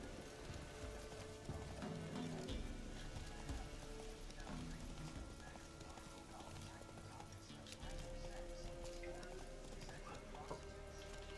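A horse gallops in The Witcher 3 video game, its clip-clopping hooves beating steadily under game music and ambience, with faint background sound throughout.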